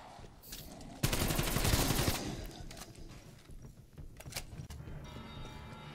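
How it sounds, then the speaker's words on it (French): A shotgun blast roars in Call of Duty Cold War Zombies, a dense burst of fire lasting about a second, followed by scattered quieter clicks and game noise. "Oh, fusil à pompe, mon gars."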